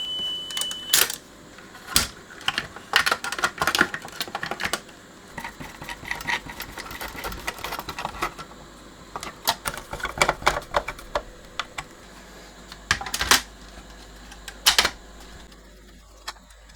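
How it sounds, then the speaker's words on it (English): Technics RS-671 cassette tape deck fast-forwarding a worn, heavily used tape, producing irregular mechanical clicks, clatter and whirring bursts at close range over a quiet background. "I'll try and fast forward this a bit. Get to a nicer piece of tape"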